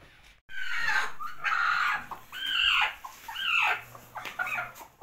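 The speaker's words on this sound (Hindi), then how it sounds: "भाई ने रखी हुई है मुर्गी और उसे अंडों पर बैठाया हुआ है" A hen brooding on a clutch of eggs gives a run of close, loud clucks and drawn-out throaty calls in uneven bursts, heard alone without any talk.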